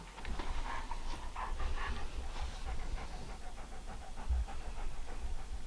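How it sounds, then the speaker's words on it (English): A dog pushing past a tripod indoors pants rapidly and steadily, close to the microphone, with faint whimpering mixed into the breathy rhythm. "My dog's pushing past. So excuse the noises that you might hear in a second."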